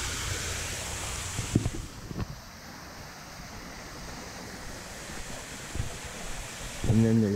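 Steady broadband rush of water falling from a hotel pool waterfall, continuous and moderately loud, with brief voices and wind buffeting near the microphone.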